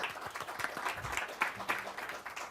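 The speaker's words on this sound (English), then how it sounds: "quick round of applause for this esteemed lineup" A short burst of applause from a crowd, many hands clapping steadily for a couple of seconds.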